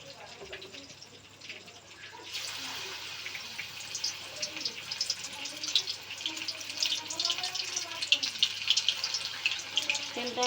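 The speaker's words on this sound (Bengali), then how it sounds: "এই জলটাকে ঝরিয়ে নিচ্ছি, ওটা ঝরানো থাক।" Water draining off pieces of fish being prepared for pakora, a continuous splashing trickle close by in a home kitchen, with a person speaking over it.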